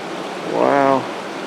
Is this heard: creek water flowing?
yes